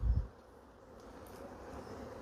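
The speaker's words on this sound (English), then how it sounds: "These bees are doing great." Honey bees buzz around an open hive during an autumn inspection, a faint, steady hum following a brief low thump of handling at the start.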